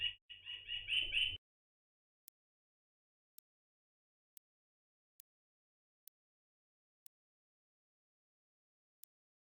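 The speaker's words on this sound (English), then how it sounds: "That's the bird clock." A bird clock in a streaming room gives a short burst of clucking, rooster-like chirps, then silence broken by faint, evenly spaced ticks about once a second.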